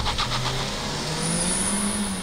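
A Formula Renault 2.0 race car pulls away on a circuit, its engine noise a continuous steady drone with rising pitch as it accelerates, heard at moderate distance against constant background noise and no talk.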